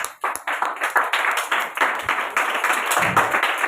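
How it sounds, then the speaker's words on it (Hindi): A church congregation clapping loudly together at a Faith of Life Ministries service, a dense burst of many hands in quick, roughly steady rhythm, close and energetic with no talking over it. "हाँ जोर से ताली बजाओ"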